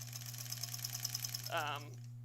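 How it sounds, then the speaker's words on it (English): A sewing machine runs steadily, stitching binding onto a quilt with thin batting, a close humming whir with rapid needle ticking as a voice speaks briefly near the end. "We're just gonna sew it right on."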